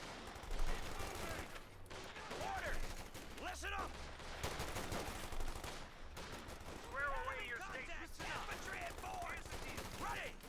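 Rapid bursts of machine-gun and rifle fire from a lieutenant unit in Company of Heroes 2, an OKW versus USF match, crackle repeatedly at mid distance, overlapping into dense fusillades with brief pauses between volleys.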